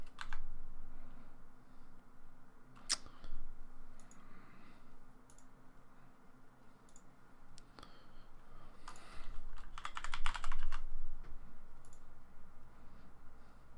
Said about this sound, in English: You like the chiclet keyboard from the Mac?